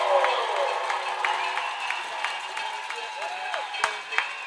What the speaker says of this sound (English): And they give them a nice round of applause.